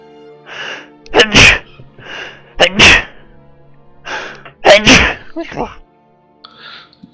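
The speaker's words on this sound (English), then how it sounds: "That was like the cutest little sneeze ever." A small, cute sneeze bursts out sharply at close range, followed by more sneezes and gasping breaths in a quick irregular sequence, with a bit of talk and game sound in between.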